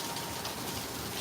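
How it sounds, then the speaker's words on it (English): Steady rain falling outdoors near scaffolding, a continuous broadband hiss of drops on surfaces at moderate level with no voices. "I can't do nothing about the fucking rain."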